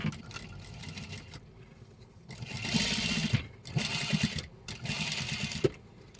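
Sewing machine stitching a barong placket: bursts of rapid, rattling stitching alternate with brief pauses, moderately close and clear, with no talk.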